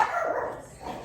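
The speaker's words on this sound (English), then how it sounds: "Bad dog's going to start barking." A dog gives a short bark or yelp, a brief muffled burst with a second softer one near the end, heard at moderate distance in an indoor room.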